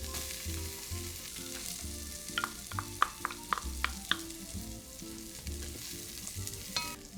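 Finely chopped carrot drops into a hot pan for a mirepoix and sizzles steadily, with a cluster of light clicks and stirring taps partway through, close and fairly quiet.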